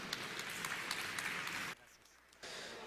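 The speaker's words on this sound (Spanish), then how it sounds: "Vamos a darle un fuerte aplauso al barista Méndez" An audience applauds barista Alejandro Méndez at the ABASTUR 2013 conference on milk and coffee. The dense, steady clapping breaks off briefly near the end, then picks up again.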